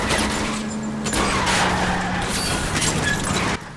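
Car chase in the video game L.A. Noire: a loud, continuous roar of a speeding car engine with broadband rushes of tires skidding and sliding, sustained for several seconds before cutting off abruptly near the end.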